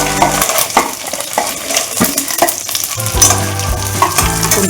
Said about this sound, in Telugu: మినమిరపకాయలు వేస్తున్నాను.